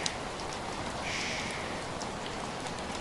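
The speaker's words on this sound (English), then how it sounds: "Listen to the water washing over the glass" Rain washes over the window of a sleeper train, a soft, steady hiss of drops on glass that stays constant and fairly quiet throughout, with no voices.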